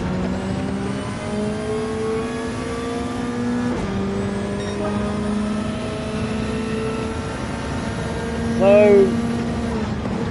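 Engine whine from a Toyota Supra and a Subaru WRX racing in Gran Turismo 7, steady tonal revs climbing and shifting through gears, with a brief passing whoosh near the end and someone talking over it.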